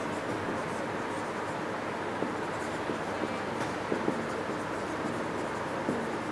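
Chalk or marker writing on a board during a science class, faint scratchy strokes over a steady hissing room noise.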